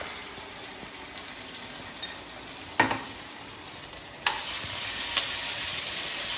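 Sliced onions fry in hot oil in a pan with a steady, soft sizzle, and a few sharp clinks and scrapes of stirring break in now and then; no one speaks.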